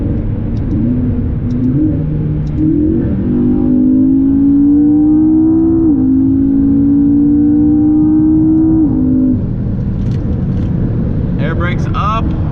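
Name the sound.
supercar engine accelerating with an aftermarket exhaust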